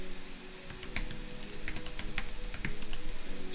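Rapid typing of Java code on a computer keyboard, with crisp close key clicks in quick irregular bursts over a faint background hum.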